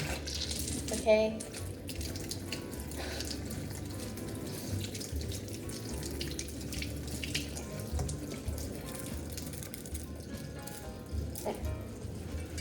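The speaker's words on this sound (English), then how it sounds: "I'll wash the lemon." Tap water running steadily into a kitchen sink while a lemon is washed under it, a soft continuous splashing stream heard close up, with a brief spoken word early on.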